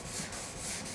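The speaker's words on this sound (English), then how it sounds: "And I'm going to wet sand that area right there," A soft block with wet 1500-grit sandpaper rubs back and forth over the door of a 2006 Chevrolet Aveo, giving a quiet, steady rhythmic scrubbing with no voices.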